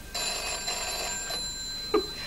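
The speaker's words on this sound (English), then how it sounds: "Why did the tree light up when the phone rang?" An old-style telephone bell rings, bright and metallic, in a couple of quick trilling bursts before a short knock near the end.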